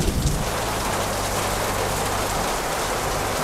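Heavy rain falls steadily outside a roadside eatery, a dense, loud hiss of drops on surfaces that never lets up, with no talking.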